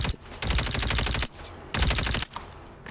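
Type 19 weapon in a video game firing in two sustained automatic bursts of rapid, evenly spaced loud shots, separated by a short pause, with no voices.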